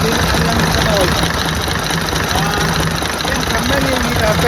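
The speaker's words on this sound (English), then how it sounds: "is a 1904 Maudslay Gordon Bennett series race car. 10 litre, 6 cylinder" A 1904 Maudslay Gordon Bennett race car's 10-litre six-cylinder engine idles loudly and steadily with a dense, knocking mechanical rumble, voices talking faintly underneath.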